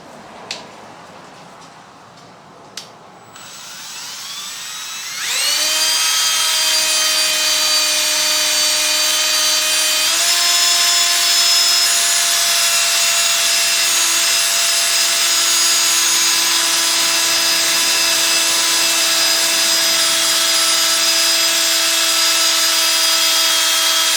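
A power drill starts up and runs steadily, rounding the sharp edges of a car badge, a loud continuous whine with a grinding edge that shifts pitch slightly partway through.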